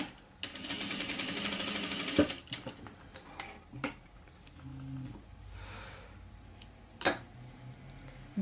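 A sewing machine stitches patchwork fabric in a fast, even mechanical run of about two seconds, followed by scattered clicks and handling of the cloth, with no talking.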